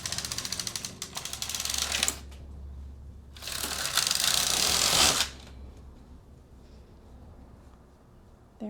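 A knitting machine clatters as its carriage is worked to remove a section knitted in waste yarn, with two loud, harsh rattling passes of about two seconds each, separated and followed by quieter mechanical clicks.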